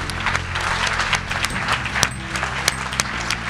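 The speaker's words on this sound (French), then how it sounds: "Allez, on les applaudit très très fort tous les 4." Clapping from an event audience for four award nominees at a French professional awards ceremony, a dense steady ovation with a low hum underneath and occasional sharper claps.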